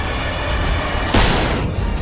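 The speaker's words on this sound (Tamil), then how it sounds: "துப்பாக்கி சத்தம் கேட்டு நட்சத்திரா மரண பயத்தில் உறைந்து விழித்தாள்." A single gunshot sound effect in a Tamil audio drama, fired beside a bed in a room: one sharp, loud blast with a brief decaying tail over a steady background bed.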